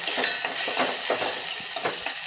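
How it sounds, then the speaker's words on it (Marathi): Barnyard millet (varai) roasting in ghee in a pan, a continuous close hiss and sizzle broken by soft repeated scrapes of a stirring spoon, with no voices. "साधारण एक दोन मिनटे ही वरई तुपावरती भाजून घेऊया"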